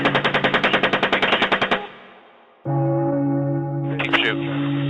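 Rapid bursts of military machine gun fire in recorded combat footage, a loud evenly spaced volley that cuts off into a steady engine-like drone with a brief crackle later.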